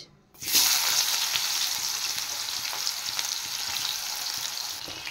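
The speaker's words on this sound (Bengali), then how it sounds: "এবার এদিকে তেল গরম হয়ে গেছে, এবার আমি দিয়ে দেব কুচিয়ে রাখা পেঁয়াজ" Chopped onion drops into hot oil with a sharp onset and then sizzles loudly and steadily, a broad hiss of frying that holds without talk until it eases slightly at the end.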